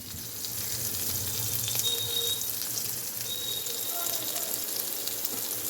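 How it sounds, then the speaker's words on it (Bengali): Eggplant pieces fry in hot oil with a continuous, even sizzle and crackle, close by and steady throughout, with faint voices in the background. "বেগুনগুলোকে আমি আগে ভেজে তুলে নেব"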